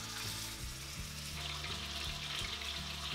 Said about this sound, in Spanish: Cuando este está caliente, freímos la falda durante unos minutos.